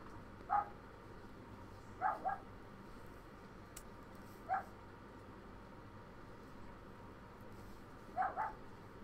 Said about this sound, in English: You hear that crazy dog out there barking?